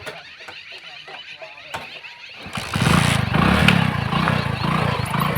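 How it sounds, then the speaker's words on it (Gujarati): A motorcycle that won't start: a few sharp clicks and mechanical taps, then a loud, rough engine-like roar that surges and sputters close by without settling into a smooth run. "તો બાઈક એ ચાલુ થતી નહીં."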